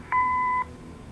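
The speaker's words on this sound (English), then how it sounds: "Leave a message after the beep." A single electronic answering machine beep in the video game Kathy Rain, a clean steady tone lasting about half a second over a faint low hum, then quiet.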